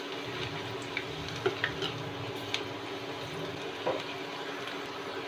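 Thinly sliced okra deep-fries in oil, making a steady, even sizzling hiss with a few faint ticks and pops and no voices.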